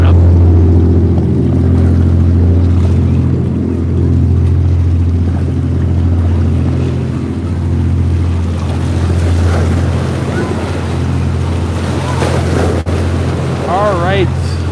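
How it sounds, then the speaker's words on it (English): Waves from a passing ship's wake wash ashore at South Padre Island near the Port of Brownsville channel, rushing steadily under a loud, continuous low engine drone and wind noise. "Got some waves coming up."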